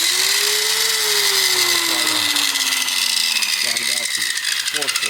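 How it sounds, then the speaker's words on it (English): A grinder works on bicycle forks, widening the slots from 8 to 10 millimeters, as part of an electric bike hub motor conversion: a loud whining motor whose pitch slowly drops as it bites, then stuttering grinding bursts near the end, with a voice talking over it. "grind out the forks a little bit to make them from 8 to 10 millimeters"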